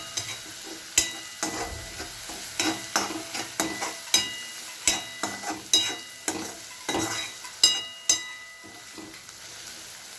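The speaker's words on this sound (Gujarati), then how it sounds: "ટામેટાં અંદર સારી રીતે ક્રશ થઈ જાય, एकदम सॉफ्ट થઈ જાય ત્યાં સુધી આપણે એને કૂક કરવાના છે" Tomatoes cook down in a pan for a Gujarati potato shaak while a spoon stirs them, making repeated scraping strokes over a steady moderate sizzle, with no talking.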